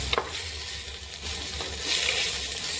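Pieces of bitter gourd fry in a pan with curry leaves, garlic and ginger paste, giving a steady close sizzle with a few light stirring scrapes and clinks.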